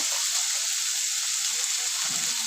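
Chopped tomato drops into onions frying in a pan for a home-style mung dal with fish head, giving a steady close hiss and sizzle with a faint stir near the end, under quiet speech.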